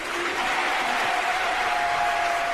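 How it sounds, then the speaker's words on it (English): A crowd breaks into applause at a live event, a dense, loud, continuous clatter of clapping with no pauses. "We gonna give them a good round of applause"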